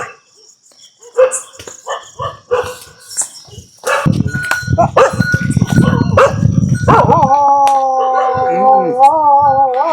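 Sporadic barks at first, then several village dogs break into loud, continuous barking and a long wavering howl nearby, with insects chirping in the background.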